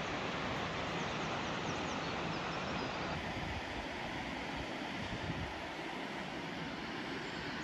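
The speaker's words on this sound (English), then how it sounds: "Corrieshalloch waterfall." Corrieshalloch waterfall in Wester Ross, Scotland, roars steadily from a viewing platform: a dense, constant rush of falling water with no pauses.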